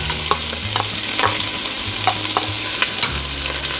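Celery and onions sautéing in olive oil for a Mediterranean lentil soup, a loud, constant sizzle punctuated by a rhythmic scrape of a spoon stirring the pan, close and without speech.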